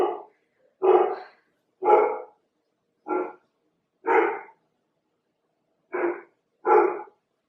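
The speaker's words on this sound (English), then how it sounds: "Sorry, my dogs are barking." Several dogs barking indoors, seven separate loud close barks spaced irregularly about a second apart, with silence between them.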